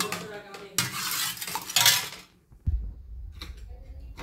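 A spoon stirs boiled urad dal seasoned with salt and turmeric in a pan, close scraping and clinking strokes in a couple of bursts, then a low thud and faint clicks after a pause; no one talks.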